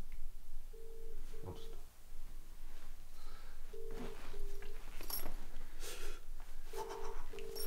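A telephone dials out a call, with a series of short steady tones in separate groups over faint background hiss and some clicks.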